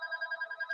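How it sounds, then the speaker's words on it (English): A telephone bell rings in a rapid warbling trill, its bright electronic tones pulsing evenly several times in under a second, moderately loud and alone. "let's just not hear that phone."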